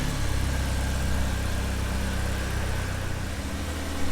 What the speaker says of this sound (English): Jamil's struggling with the idling on the car